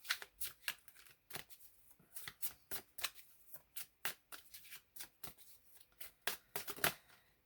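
A deck of tarot cards is shuffled by hand in a quiet room, a rapid series of crisp riffles and soft flicks in uneven bursts, close up and alone with no talking.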